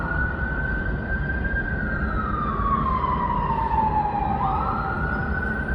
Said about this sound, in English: Okay, so it's an ambulance.